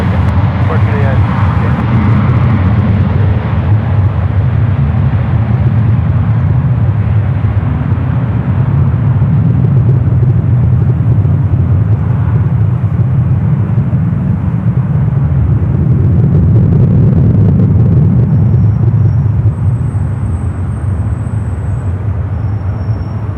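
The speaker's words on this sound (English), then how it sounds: "Looks like the 777 is slowing down just a little bit" A Boeing 777 landing and slowing on the runway at San Francisco airport: a loud, sustained low roar of engines that swells and eases over time, with a faint high whine and occasional chatter mixed in.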